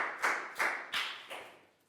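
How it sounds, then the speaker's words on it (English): Four separate sharp claps in a classroom during a Year 4 lesson, evenly spaced and fading gradually, close and fairly quiet with no talk. "High five and a big round of applause for Net"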